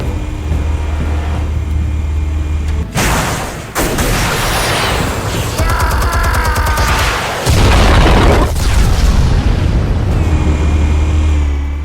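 Explosives detonating in the Batman Telltale game, heavy booming blasts with a low rumble and crackling debris, loud and sustained across the clip over a droning background, no speech.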